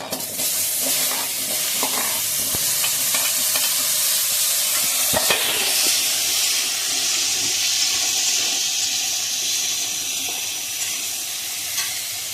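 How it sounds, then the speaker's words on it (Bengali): Potatoes fry in hot oil with turmeric, a loud continuous sizzle with a few stirring knocks early on, settling into a steady steamy hiss. "এবারে এই আলুগুলো একটু ভেজে নেব"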